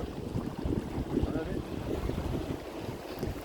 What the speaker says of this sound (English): We're kind of running with the wind right now.